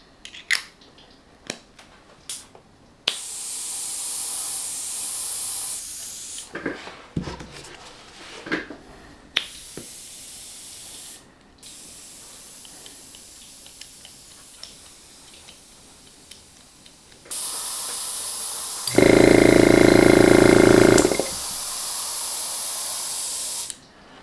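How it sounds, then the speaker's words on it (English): An airbrush hisses in several short bursts and one long, loud sustained spray near the end, each puff of compressed air and paint mist close by, with small clicks and taps from handling in between. "I'm going to use something I haven't used in a long time, and that is an airbrush"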